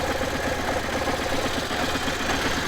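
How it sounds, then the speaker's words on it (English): A BMW R1150RT touring motorcycle's boxer twin engine idles steadily and close by, with a continuous low, even mechanical rumble and a faint rhythmic pulse throughout. "Oh, this beautiful boxer engine."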